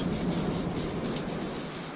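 A continuous hissing spray of lubricant onto a fishing reel after sea fishing, close up, lasting the whole time with a slightly pulsing, steady texture.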